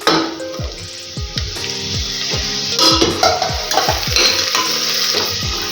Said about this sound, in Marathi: आता आपण यामध्ये टाकणार आहोत मटार आणि टोमॅटो